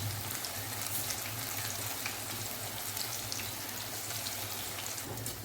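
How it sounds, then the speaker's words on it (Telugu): Coriander, mint and curry leaf pakoda batter frying in hot oil, a steady, dense crackling sizzle like rain, unbroken and fairly close. "నూనె వేడైన తర్వాత ఇందులో పిండి వేసుకుంటాను"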